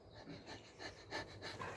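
A person imitates a tired dog panting, giving quick, faint, rhythmic breathy huffs repeated steadily through the short clip.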